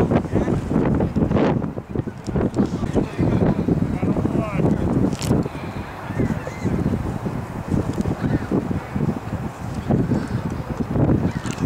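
Strong, gusty wind of 15 miles an hour or more buffets the microphone at an outdoor high school varsity baseball game, a continuous rough roar beneath a commentator's voice.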